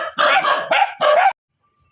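Dogs at a house bark in three quick, loud, close bursts, then fall silent while a faint high tone lingers.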